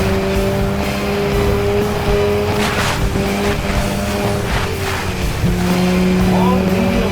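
A Citroen Xsara rally car in Sega Rally, its engine a steady loud drone with tonal whine and shifting pitch, gravel and splash noise bursts over the top, with faint voice in the background.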